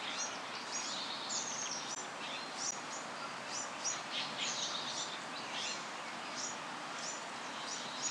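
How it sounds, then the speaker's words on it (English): Many small birds chirp and tweet in a huge banyan tree, a dense, steady chorus of overlapping high calls with a faint rustle beneath, continuous throughout. "Many birds live in this tree."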